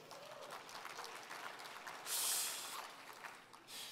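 Audience applause for politicians and city and town councillors at a 2018 State of the Region address, a soft, diffuse patter of clapping that swells briefly midway and again near the end.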